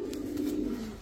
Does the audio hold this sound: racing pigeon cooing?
yes